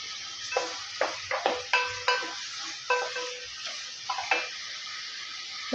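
Vegetables sautéing in a pan with salt and turmeric for sambar, a bright frying hiss with repeated metallic spatula scrapes and clinks against the pan, close up and without speech.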